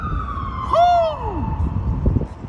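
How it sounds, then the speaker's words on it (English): An ambulance siren passes nearby with a loud, sharp whoop whose pitch slides downward as it goes by, heard over background noise. "Ambulance is coming for you."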